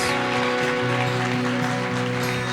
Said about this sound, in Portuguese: eu gostaria que você desse uma salva de palmas ao Senhor nessa manhã